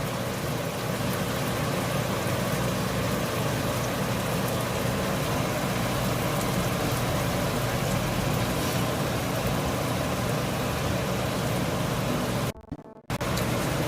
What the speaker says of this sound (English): nice little heavy downpour right now